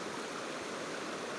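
Steady broadband rush of the Aguacatal river flowing, a continuous close wash of water with no pauses, heard alone without voices.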